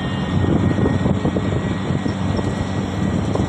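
An auto rickshaw engine drones loud and steady during a ride home from college, a constant rumbling roar with no break and no talk over it.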